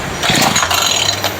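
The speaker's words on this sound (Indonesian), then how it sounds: "saya akan mencoba untuk menghidupkan mesin ini" A KASEI BG330 brush cutter engine is pull-started, a brief mechanical rattle and cough of the small two-stroke motor catching for about a second, close and fairly loud, with no voices.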